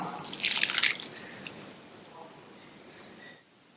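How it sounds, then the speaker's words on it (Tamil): Water is poured into green gram chapati dough during kneading, a short splashing burst near the start followed by softer wet squishing and faint drips, fairly close and fading to quiet. "நல்லா மிக்ஸ் பண்ணிட்டு கொஞ்சம் கொஞ்சமா தண்ணி சேர்த்து சப்பாத்தி மாவு பதத்துக்கு பிசைஞ்சுக்கலாம்"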